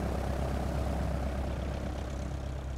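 The engine of a Cessna 172 Skyhawk idling in MSFS 2020, a steady loud low rumbling drone that stays even throughout, close, with no talking.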